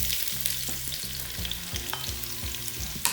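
Onions sizzle and crackle in hot vegetable oil in a pot, with a steady frying hiss and occasional stirring clatter nearby.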